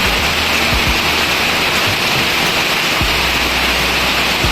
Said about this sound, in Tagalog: lumalakas na yung ulan dahil sa bagyo